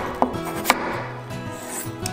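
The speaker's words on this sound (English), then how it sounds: "Wash, peel, and cut potatoes into cubes." A knife cuts peeled potatoes into cubes on a board, giving two crisp, close chops in quick succession over a steady tonal background.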